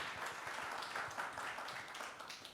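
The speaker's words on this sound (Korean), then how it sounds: "박수 안 치나요?" A film festival audience claps in a steady, moderately loud wash of applause from many hands, continuing evenly for a couple of seconds.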